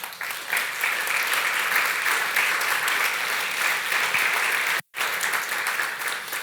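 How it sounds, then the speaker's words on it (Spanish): A church congregation claps in praise during a sermon, a loud, sustained wall of many hands that continues evenly, broken by one abrupt brief dropout before resuming. "Denle un aplauso al Señor."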